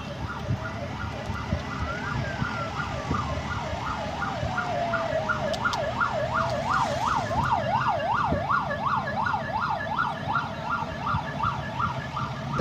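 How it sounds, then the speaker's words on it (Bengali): A convoy of police cars passes with wailing sirens, several overlapping rising-and-falling tones that grow louder and more rapid over steady traffic noise, with no talking. "এই দেখুন অনেকটি পুলিশের গাড়ি।"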